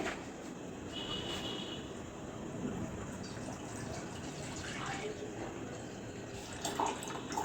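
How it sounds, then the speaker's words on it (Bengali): Country Delight cow milk poured into a pot, a steady liquid splash and trickle running throughout at moderate level with faint background noise. "দুধটা ঢেলে নিই আগে।"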